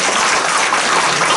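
Seminar audience applauding at the close of a national sports promotion seminar, a dense steady wash of many hands clapping throughout, loud and close with no voices over it.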